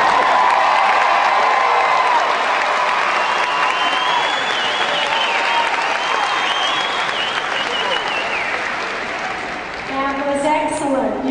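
A convocation audience gives sustained applause, dense steady clapping filling the hall with scattered cheers, while voices carry over it and a singing voice rises near the end.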